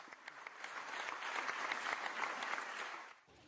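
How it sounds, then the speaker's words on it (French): Applause fills a hall at an official ceremony as a man enters, a dense steady clapping that holds moderately loud for about three seconds, then cuts off abruptly. "Il entre dans la salle appuyé sur l'épaule de son garde du corps, sous les applaudissements."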